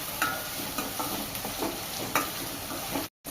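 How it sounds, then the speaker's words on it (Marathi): Tomatoes being stir-fried in a pan for an eggplant curry, with a steady soft sizzle and a few light scraping stirs, close and alone, cutting out briefly near the end. "तर टोमॅटोला पण मऊपणा येऊपर्यंत आपल्याला परतून घ्यायचा आहे"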